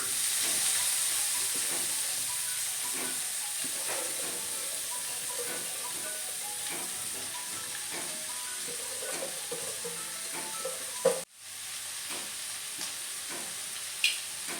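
Chaya (Mexican tree spinach) leaves sizzle steadily in hot oil while a spoon scrapes and stirs the pan now and then; the sizzle drops out briefly before resuming.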